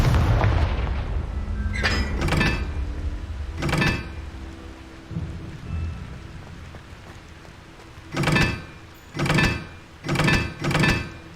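Confringo fire spells cast in Hogwarts Legacy, a burst of broad crackling blasts early on, then four sharp explosive bursts in quick succession near the end over a low game ambience.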